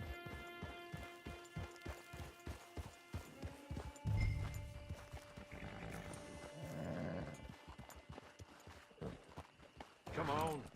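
Horse hooves clip-clop in Red Dead Redemption 2, a steady run of crisp strikes early on that gives way to mixed game sounds, with a voice talking partway through.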